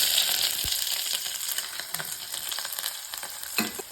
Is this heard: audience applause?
no